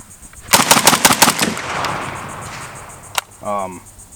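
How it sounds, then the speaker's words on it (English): A rapid string of close, sharp AK rifle shots fires in quick succession, then a rolling echo fades, followed by one last crack and a brief voice. "It's a very good trigger, very smooth, fast reset. I can shoot it very fast."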